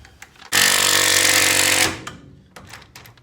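Loud power tool, likely an impact wrench, tightening bolts on the suspension of a Chevy C20 during a 5-lug conversion, one sustained burst of about a second and a half in a garage with faint clanks before and after.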